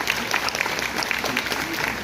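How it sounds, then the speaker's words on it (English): Audience applause at a physiotherapy conference, a steady dense wash of many hands clapping together, fairly close and sustained throughout without pause. "We need to have a louder round of applause, please."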